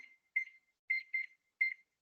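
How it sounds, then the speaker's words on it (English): A kitchen timer being set while rice boils, giving four short electronic beeps in an uneven rhythm, close and clear, with silence between them. "I'm going to put my kitchen timer on"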